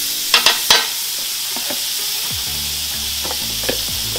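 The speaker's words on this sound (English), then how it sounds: "put a bit of butter on that griddle" Butter hits a hot Weber Q1200 griddle on low heat after a few sharp clicks, then a steady light sizzle sits close and alone.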